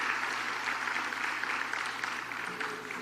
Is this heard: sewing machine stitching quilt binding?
no